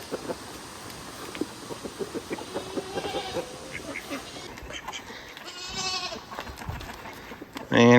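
Goats bleat repeatedly at close range amid farmyard rustling and other livestock noise, the calls coming in uneven bursts over several seconds.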